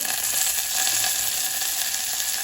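Cumin seeds, dried red chillies and curry leaves frying in hot oil, a dense, steady hiss of sizzling with fine crackle throughout, close and even.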